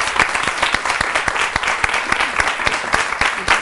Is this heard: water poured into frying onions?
no